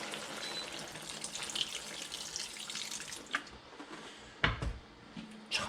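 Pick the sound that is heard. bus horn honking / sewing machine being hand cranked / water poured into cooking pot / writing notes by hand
water poured into cooking pot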